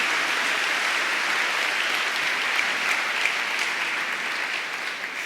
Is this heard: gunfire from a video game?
no